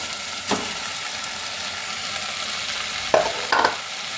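Rice being stirred in a pot while cooking kara pongal, a quiet steady sizzle with a few distinct scraping strokes of a spoon, one early and two near the end.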